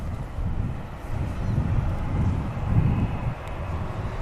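Boeing 737 jet on the ground at Manchester Airport, a steady broad engine roar heard from a distance with wind buffeting the microphone, no talk over it.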